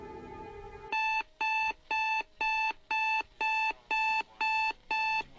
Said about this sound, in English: awoke to the ever-depressing sound of an alarm clock